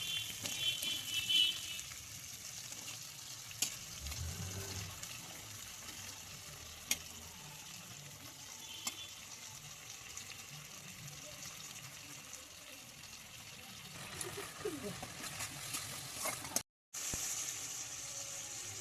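Katla fish simmering in a wok in a paste of ground dried chillies, a low, steady bubbling hiss with occasional faint clicks and stirring scrapes, fairly quiet throughout and cut by a brief silent gap near the end.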